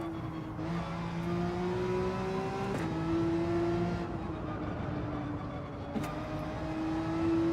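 A Porsche race car in the video game Gran Turismo 7 with its engine droning steadily at high revs, the pitch rising and falling through gear changes, with a few faint clicks.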